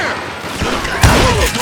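Gunfire in Call of Juarez: Gunslinger, a Western shooter: a rough, noisy volley of shots that peaks in one loud crack partway through, with echoing impacts and game effects around it.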